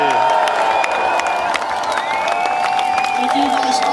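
Crowd noise at a kayak freestyle demonstration during the London 2012 events, a steady mass of cheering and whooping voices carrying throughout, with scattered shouts and an amplified voice over the top.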